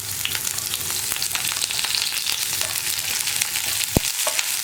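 Onions sizzling steadily in hot oil with mustard seeds and curry leaves, a loud, dense, continuous frying hiss with a faint stirring clink near the end and no talk.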